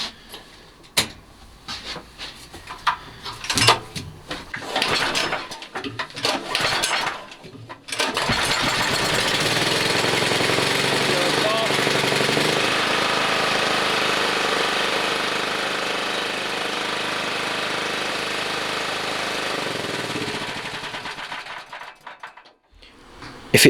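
A portable generator engine is pulled over with a few sputtering attempts, then catches and runs steadily at a loud, even drone for about twelve seconds before cutting off.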